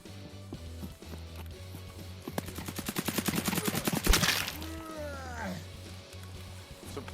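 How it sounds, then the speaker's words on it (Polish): A rapid burst of sharp, loud bangs fires in quick succession, building to a peak, with voices talking around it. "Ktoś tu armatę ma ze sobą."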